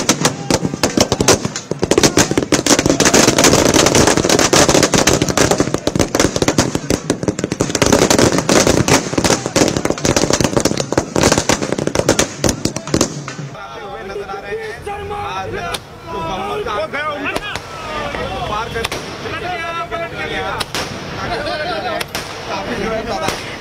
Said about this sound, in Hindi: साथ ही पटाखे फोड़कर जश्न मनाया जा रहा है।